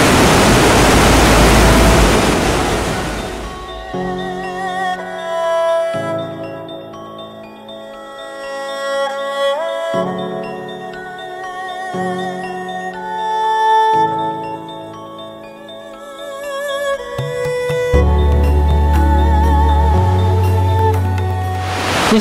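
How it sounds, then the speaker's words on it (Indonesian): A waterfall flowing down from Gunung Raja peak at a Bentong ecotourism site: steady broadband rushing water fills the first few seconds, then music takes over for the rest. "Air terjun yang cantik ini merupakan salah satu tarikan pelancong. Dan untuk pengetahuan anda, air terjun ini mengalir dari puncak Gunung Raja."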